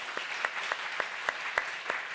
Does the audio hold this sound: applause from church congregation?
yes